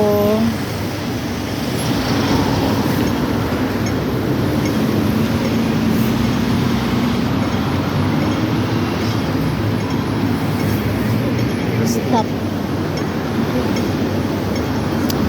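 Traffic rumbling along a busy Hong Kong street near a market, a steady continuous wash of passing vehicle noise with a loud, unbroken roar throughout.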